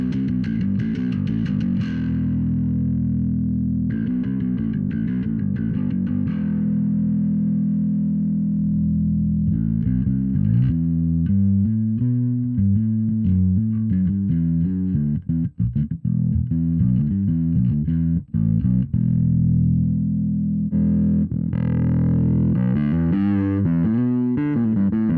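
Distorted bass guitar played through a Darkglass Infinity Combo 500 amp, loud and continuous, with sustained notes and then choppy rhythmic phrases as the distortion tone shifts.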